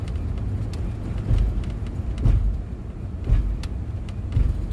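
A car rolls slowly through a 15 mph zone on a park road in the Everglades, its low engine rumble and tire noise steady and close, with no talking.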